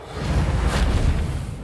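A Reparo repair spell cast in the Hogwarts Legacy video game: a steady magical whoosh with a low rumbling bed that swells to a shimmering peak midway and then settles, sustained and fairly loud throughout.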